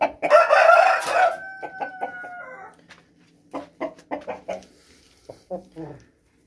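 A fighting rooster crows loudly close by on a farm, followed by scattered clucks and short calls from other fowl, with brief quiet gaps.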